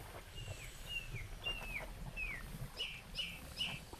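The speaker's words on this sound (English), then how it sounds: "Birds outside." Several short chirps from birds outdoors in a Dark Souls 3 forest, repeated at an even pace over faint background noise, moderately distant.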